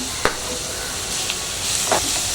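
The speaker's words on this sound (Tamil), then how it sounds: "கேரட் வந்து நல்லா ஃப்ரை பண்ணணும்" Carrots for carrot rice sizzle in a hot pan with a steady hiss, broken by a few sharp clicks of stirring. The sound is close and moderately loud, and no one speaks over it.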